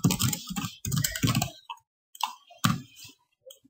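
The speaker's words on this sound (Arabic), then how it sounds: "حنا مثلا نكتب الامر ديال ستارت ونديرو موقع مثلا" Typing a DOS command on a computer keyboard: close bursts of quick clattering keystrokes in two runs, then a few scattered single key taps.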